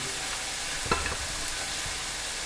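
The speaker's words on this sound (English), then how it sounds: "the meat. Give it a little shake up, a little stir." Meat fries in a pan with a constant sizzling hiss, broken by one brief clatter as it is stirred and shaken; no voices.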